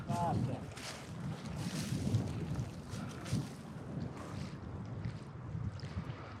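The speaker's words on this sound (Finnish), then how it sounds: "Tänne pääseekin tuuli painamaan vähän kovempaa." Gusting wind over a small pond during a fishing trip in Hossa, buffeting the microphone in low rumbling bursts with faint water lapping, steady and close throughout.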